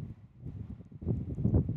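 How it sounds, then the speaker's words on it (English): Strong gusts of wind, around 30 miles an hour, buffet a microphone fitted with a wind muff at an airport plane-spotting spot, giving a low, rumbling, uneven roar that swells louder in the second half. "That's how windy it is. It's 30 miles an hour."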